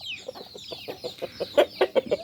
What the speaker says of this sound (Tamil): இந்த சேவல் பாருங்கள்